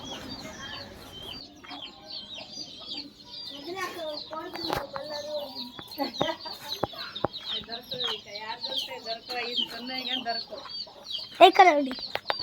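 Several large fighting roosters and hens cluck and squawk in a backyard pen where game fowl are bred, with a loud crowing burst near the end, heard under ongoing voices of adults and a child.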